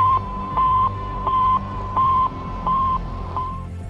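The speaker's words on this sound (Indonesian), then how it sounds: "Sputnik memancarkan gelombang yang bunyinya seperti ini." Sputnik satellite radio signal: a steady, clear electronic beep repeating at an even pace, about six pulses with short gaps between them, over a faint low hum.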